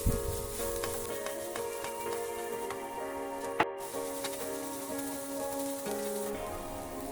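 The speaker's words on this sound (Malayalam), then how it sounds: "കുറച്ച് കുരുമുളക് പൊടി, ഉപ്പ് വഴറ്റി കൊടുക്കാം." Soft continuous sizzle of food sautéing in a pan with pepper powder and salt, with a few faint clicks of a spoon against the pan, close but quiet, no talking.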